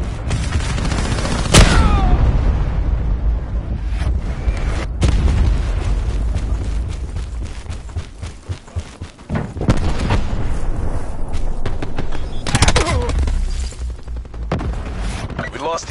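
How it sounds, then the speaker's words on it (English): Hellstorm missile strikes in a console first-person shooter land as loud booms and bursts of explosive gunfire, several heavy blasts scattered across a noisy battle, while game voice callouts speak over the din. "Hostile Hellstorm inbound."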